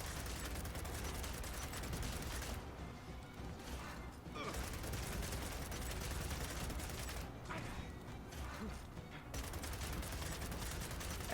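Sustained gunfire in Gears of War 4, dense and continuous with brief lulls, with loud weapon noise dominating throughout.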